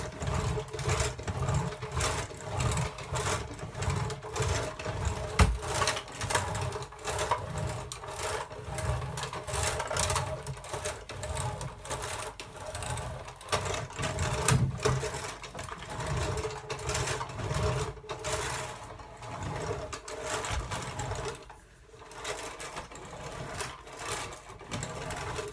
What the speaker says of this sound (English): So I've got my sweeper. I'm just gonna